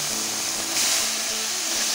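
Coriander and chili powder with ground tomato paste frying in a pan for a home-style Bengali egg dal, a loud, steady broadband sizzle and hiss running throughout with no talking.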